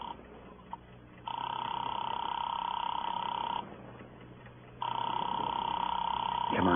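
In a 1949 radio crime drama, a telephone line gives long, steady electronic tones that switch on and off in a slow repeating pattern, with a quiet hiss underneath and no voices.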